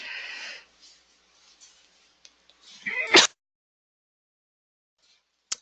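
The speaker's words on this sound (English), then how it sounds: "I tried to mute that before I sneezed" A single sharp sneeze bursts out at close range during a software tutorial at a computer, preceded by a short intake of breath and followed by near silence, with a brief faint click near the end.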